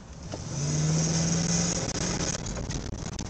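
A large car with about 178,900 miles on it accelerating, its engine building into a loud, steady roar with a rising whine, then carrying on with road noise as it gathers speed.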